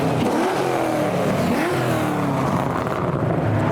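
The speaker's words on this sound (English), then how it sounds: "we've got the V8 S15 revving as he drives past" A V8-swapped Nissan S15 revs loudly nearby, its engine note rising and falling in throaty surges as it passes.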